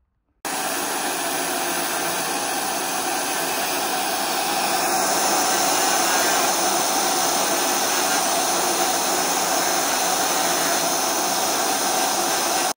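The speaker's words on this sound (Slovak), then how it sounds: "zapnem vysávač a budem brúsiť, koľko čo dá" Vacuum cleaner runs as a steady loud broadband roar while a car's LED headlight lens is sanded, the noise continuous and close for the full length with no talking.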